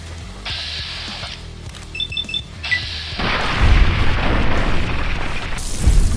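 Grenade explosions in Fallout New Vegas burst into loud, rumbling booms that fill the second half, preceded by quieter game tones and beeps, with heavy blasts near the middle and again at the end.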